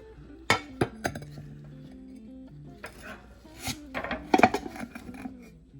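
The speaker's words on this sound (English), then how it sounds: "I'm gonna flip it over once onto a plate and then flip it back over onto the cake board" A moist pineapple cream cheese pound cake is flipped over onto a plate, giving a few sharp clinks and knocks of dish and pan contact with soft rubbing in between, close and quiet with no talking.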